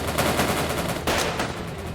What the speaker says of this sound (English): you're gonna be getting shot from a lot of places here.